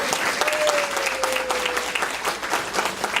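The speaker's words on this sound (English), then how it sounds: "Let's give another round of applause for all the candidates." A breakfast meeting crowd gives steady applause for board candidates, many hands clapping densely at moderate distance, with a faint tone sliding through briefly.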